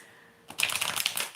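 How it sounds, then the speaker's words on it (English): A deck of playing cards being shuffled late at night: after a quiet start, a dense, crisp riffle of rapid card flicks runs close and fairly loud for the last second, with no voices. "going to shuffle my cards."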